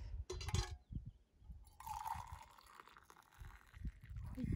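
Hot water poured into a freeze-dried garlic risotto pouch, a soft running trickle with rustling of the pouch and brief handling noises, faint and close.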